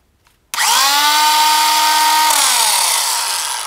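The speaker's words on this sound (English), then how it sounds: "we'll make a quick cut or two here in our plywood" WEN 20648 cordless biscuit joiner cutting plywood: after brief quiet the motor starts abruptly into a loud, close, steady high whine with a falling harmonic pitch during spin-up, holding constant and easing slightly at the end.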